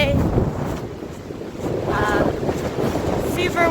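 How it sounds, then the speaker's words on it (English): Strong gusts buffet the microphone on a snowy mountain ridge along the Appalachian Trail on a cold morning, a loud, rough rush of wind with brief voices faintly heard under it. "Super windy up here on this ridge."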